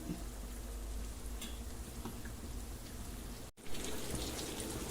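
Fish fries on a low stove flame after being turned to its second side, making a soft, even, continuous sizzle with faint crackles and a tiny gap near the end.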